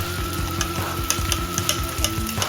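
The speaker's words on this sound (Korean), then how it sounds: "양파가 반투명해질 때까지 단골로 볶아주세요" Diced onion and green onion stir-fried in a pan, a steady close sizzle broken by repeated scraping clacks of stirring, with no talk.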